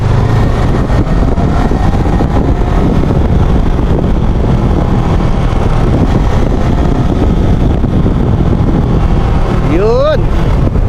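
A Suzuki DSX500 motorcycle engine drones steadily under heavy wind rush while riding and overtaking, loud and constant throughout with a brief rising whine near the end.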